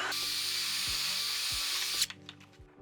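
A power drill whirs steadily at close range for about two seconds drilling into wood, then cuts off, leaving a few faint clicks and taps.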